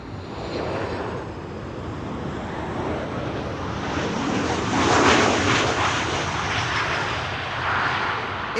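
A JetBlue airliner arrives at Amsterdam Schiphol Airport. A steady jet roar holds throughout and swells near the middle, loud and fairly close, with no voices.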